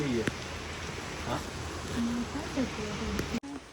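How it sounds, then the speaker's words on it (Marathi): Steady rain falls across a village location, a dense continuous hiss that holds until it cuts off abruptly near the end, with a few faint voices underneath. "मस्त पाऊस पडतोय आणि मस्त लोकेशन आहे"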